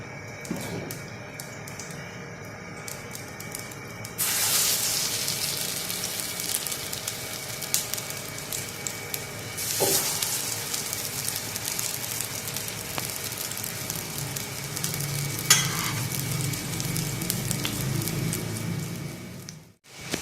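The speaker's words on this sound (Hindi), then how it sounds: "कबाब हमारे फ्राई हो रहे हैं।" Beef shami kebabs fry in hot oil with a continuous crackling sizzle like steady rain, plus occasional sharper spits and pops, heard up close for about twenty seconds.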